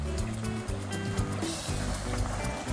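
Water gushes from a running motor pump into a field channel on a farm, a dense, continuous rushing flow, close and steady with no pauses.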